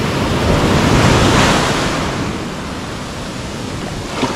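Waves wash onto a wide beach in Siquijor, making a loud, continuous surf roar with heavy wind buffeting the microphone. The roar swells briefly early on and then eases slightly.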